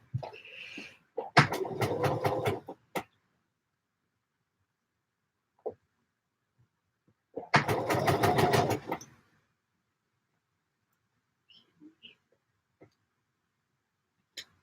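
A sewing machine stitches gathers into fabric in two separate bursts of steady, close running, each about two seconds long, with near silence and a few faint clicks and handling sounds between them.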